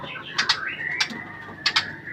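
Birds in a large breeding aviary, including a big long-tailed bird with a brooding female, give several short, bright calls in quick pairs over a faint steady whistle-like tone and light background noise.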